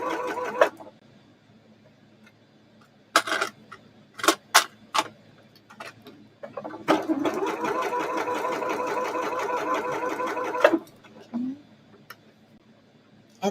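A sewing machine stitches a half-inch shoulder seam on a shirt with front and back darts, sewing forward, then back, then forward again. Several short close bursts lead into one steady run of about four seconds, with no talking over it.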